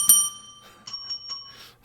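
A software bell on a computer rings several times in quick succession, bright and clear, with a first strike followed by three softer dings, with no talking.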